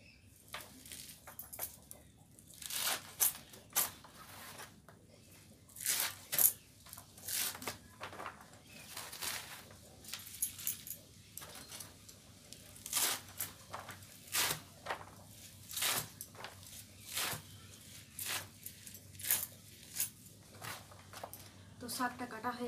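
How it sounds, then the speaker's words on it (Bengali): A knife chops spinach leaves on a board with quick irregular cuts and crisp taps, close but fairly quiet, repeated steadily through the whole stretch. "এই যে পালং শাক, এগুলোকে কেটে নেব।"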